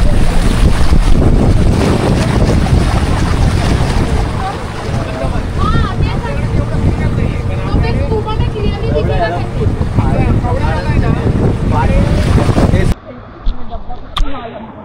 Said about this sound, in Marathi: भर पावसात बोटीत तुम्ही फिरून बघा